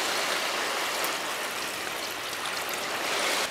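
Rainwater runs straight from storage tanks into a garden with concrete raised beds, a steady close rushing stream that continues unbroken and fairly loud throughout, with no talking.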